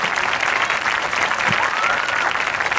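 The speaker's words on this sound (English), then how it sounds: "How about another round of applause for our musicians and guards?" A crowd applauds marching band musicians and color guard at a high school summer showcase, giving dense, sustained clapping that stays loud and steady throughout.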